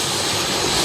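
A helicopter engine runs at full power during a hot load by firefighters and EMTs at a disaster drill, a loud, close, continuous turbine roar filling the brief moment.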